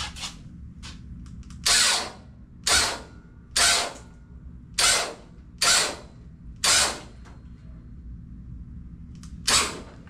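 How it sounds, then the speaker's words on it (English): A hydraulic pump on a custom car's rear suspension setup whirs in six or seven short, loud bursts at close range, each a second or less, with quieter mechanical hum between them. "the pump still has to pump the fluid through the hoses"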